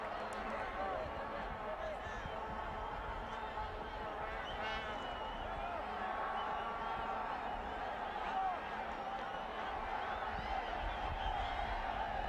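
Stadium crowd at a 1998 Gold Cup football match between Brazil and El Salvador, a dense, continuous murmur and roar with scattered whistles and shouts, heard under a commentator's talking.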